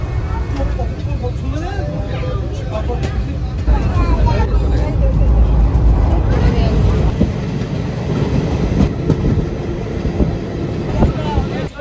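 A train rumbles steadily along the rails near Salar station in rural Murshidabad, India, with rhythmic clatter and rattling carriages throughout, close and loud.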